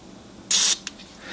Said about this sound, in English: we're going to spray a little bit of the Deoxit D5 into the switch